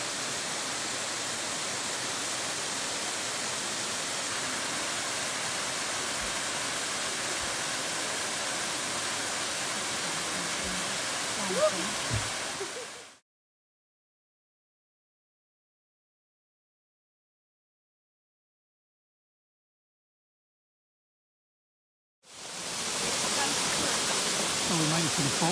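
Barren Falls waterfall gives a steady, broad rushing hiss, heard alone and evenly loud, broken by a long stretch of silence before the rush resumes.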